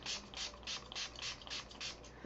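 A hand spray bottle mists paint onto a craft board in about eight quick, evenly spaced hissing pumps, close and fairly soft, with no talking.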